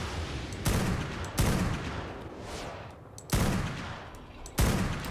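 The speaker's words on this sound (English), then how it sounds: "I'm a terrible shot. I'm just trying to kill these guys because these damn Dilos are just everywhere." Gunfire in the game ARK Survival Ascended on the Extinction map, shooting at Dilos: four loud, close shots or short bursts at uneven intervals, with a rumbling tail after each.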